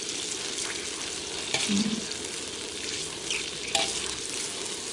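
Beetles fry in hot oil while being stirred, a constant close sizzle with a couple of brief utensil knocks, no voices.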